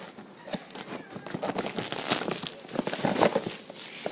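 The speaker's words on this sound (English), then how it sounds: "let me open the plastic" Plastic wrapping on a Play-Doh lunch box set crinkles and crackles as it is pulled open, in close, continuous rustling bursts lasting the whole moment.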